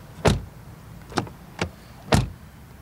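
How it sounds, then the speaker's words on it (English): Doors of a Mercedes GLE 350de diesel plug-in hybrid SUV shut one after another, four distinct dull thuds spaced about a second apart, close by with quiet pauses between. "doors closing sound, of course."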